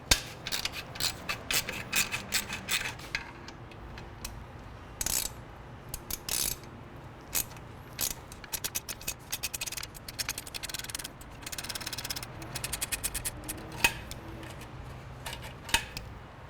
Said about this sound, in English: Next, we want to loosen up our two clamps here using our 5mm Allen hex bit.